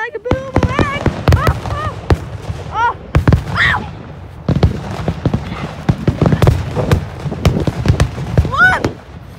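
Fireworks for a Fourth of July celebration burst in rapid, crackling volleys of sharp bangs, loud and close, with excited voices shouting and talking over and between the blasts.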